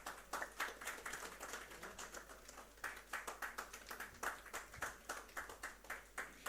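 An audience at a Gujarat chemicals and petrochemicals event claps for an on-stage bouquet presentation, rhythmic, fairly sparse clapping with distinct pulses, heard faintly from a distance.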